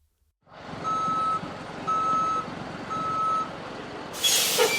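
A truck backing up sounds its reversing alarm: steady, evenly spaced beeps over a low engine rumble, close and loud, with a sharp air-brake hiss near the end.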